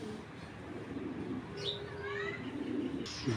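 Imported racing pigeons at a large loft coo softly over a steady hum, a couple of brief rising calls standing out near the middle of the clip.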